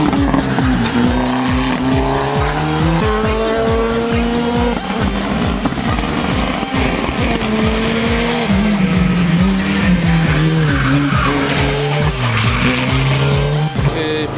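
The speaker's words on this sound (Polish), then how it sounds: "Pierwszy podjazd wyścigowy, koncentracja, grzejemy opony i bojowo przygotowanie do startu." A Volkswagen Scirocco race car warms its tyres at a hill-climb start. The engine revs loud and close, rising and falling, over continuous tyre squeal and skidding.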